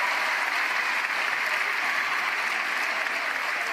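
Steady, dense applause from a crowd at a professional pickleball match in Atlanta, close and even throughout without breaks.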